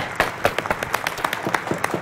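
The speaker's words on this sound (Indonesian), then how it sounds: "Oke, tepuk tangan" Sparse, scattered clapping from a small studio audience on an Indonesian game show, a handful of uneven claps spread over two seconds with no voices.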